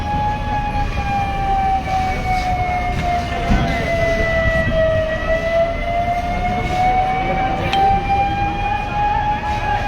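Fire engine siren at a large showroom fire in Patran, with three fire engines on scene, wails continuously, its pitch slowly dipping and rising again over a rumbling background of traffic and crowd noise.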